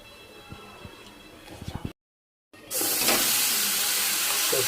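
Mustard oil frying in a pan for a spicy dish: a few quiet clinks, a moment of silence, then a loud, steady sizzling hiss that fills the rest of the clip.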